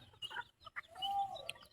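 Native chickens cluck and chirp nearby in a few short, uneven bursts, fairly quiet against a low background, with no talking.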